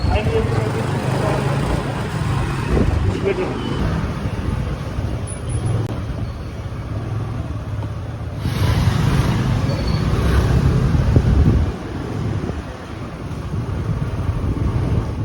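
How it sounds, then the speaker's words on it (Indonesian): Congested, narrow street in Nepal with steady dense traffic noise from cars and buses, engines rumbling continuously at close range, a swell of louder passing traffic midway; no horn blasts stand out clearly. "jalanannya macet, polusinya ada, terus jalannya sempit, klakson sana sini"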